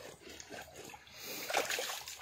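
Cold stream water splashes in a forest, with a steady wet rush that swells into louder, denser splashing toward the end, heard close and alone.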